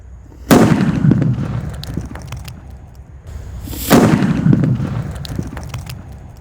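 Two paper-wrapped banaspati firecrackers buried in the ground go off a few seconds apart, each a sharp loud close boom followed by a rumbling, crackling tail.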